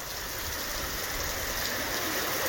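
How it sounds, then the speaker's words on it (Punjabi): Heavy, continuous rain pours down in a village near Amargarh, Malerkotla, Punjab, a dense, steady hiss and splatter that is loud and close with no voices. "ਬਹੁਤ ਜ਼ਿਆਦਾ ਮੀਂਹ ਪੈ ਰਿਹਾ ਹੈ"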